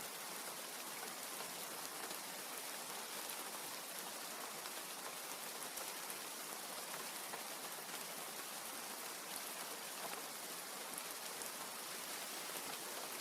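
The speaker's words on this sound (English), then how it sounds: "with the sound of today's rain in the background, let's take a water break and look outside and rest for a moment." Rain in the farming video game Grimshire falls as a steady, even hiss of countless drops, constant and soft throughout with no voices or other sounds.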